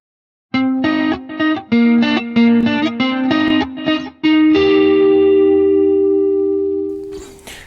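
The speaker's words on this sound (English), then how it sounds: "So for the lead tone, I am on the neck position with the tone volume rolled back a little bit" An electric guitar on the neck pickup, tone rolled back slightly, plays a quick, distorted bachata lead phrase of choppy notes, ending on a long sustained note that rings out with reverb.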